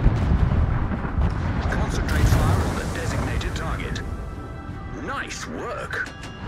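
Warship guns fire in the naval video game World of Warships, heard as a loud, booming, rumbling roar that stays up throughout, with whistling shell sounds rising and falling near the end.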